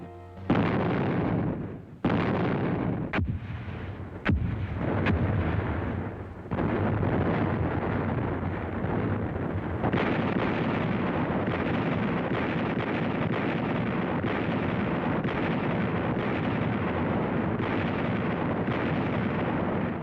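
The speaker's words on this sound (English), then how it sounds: "Our guns have the city under heavy shelling." Heavy artillery shelling of Berlin, a continuous roar of distant booms and sharp blasts, several standing out early before merging into a dense, unbroken rumble.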